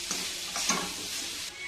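Turmeric being stirred into sabudana khichdi cooking in a pan, a spoon scraping in a few quick strokes over a soft, steady sizzle, with no talking.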